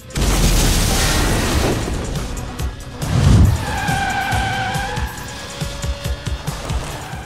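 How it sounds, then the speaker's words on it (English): A car drifting and power sliding in the Split/Second racing game, with loud engine roar, a heavy thump and long tire squeals, with no one talking. "It does that kind of power slidey thing, and it actually loses a lot of speed when it drifts."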